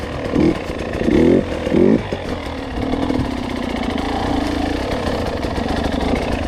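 A motorcycle engine runs during a beginner riding lesson, first with a few brief revving bursts, then a steady continuous mid-pitched drone that holds close and fairly loud to the end.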